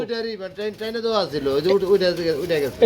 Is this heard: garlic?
no